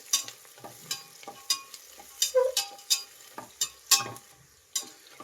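Cashews and onions frying in a pan for tomato pulao, stirred with a spoon: steady sizzle broken by repeated scraping strokes, close and moderately loud, with no talk.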